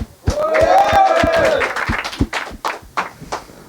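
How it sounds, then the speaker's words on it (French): A small stage audience gives scattered applause, a handful of separate claps following a loud voice, fairly close and uneven, thinning out toward the end. "Allez, des applaudissements aussi."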